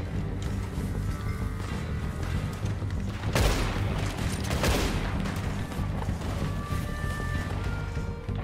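Gunfire crackles in a Red Dead Redemption 2 gunfight, with two loud, sharp shots standing out about a second apart over continuous rough background noise.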